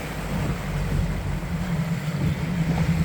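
A steady low engine drone from a NorthSilver 645 motorboat underway runs throughout, with wind buffeting and water noise around it.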